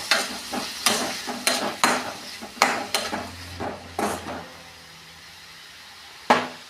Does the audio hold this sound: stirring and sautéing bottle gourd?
yes